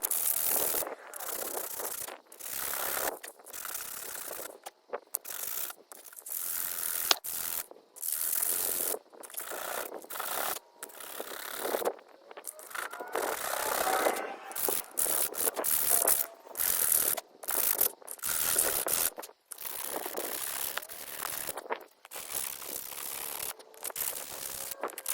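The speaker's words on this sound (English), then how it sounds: "I will get to sanding and try and make it a little bit better, more perfect." Scrap wood fishing lure being sanded by hand, with steady rasping strokes in rapid bursts broken by short pauses, close and fairly loud, lasting throughout with no talking.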